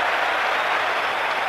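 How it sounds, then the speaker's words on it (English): Rugby test match crowd between England and New Zealand in a 1997 stadium, with a broad, steady roar of cheering and applause that fills the whole moment, distant and without a break. "No goal. No score. Crowd cheers."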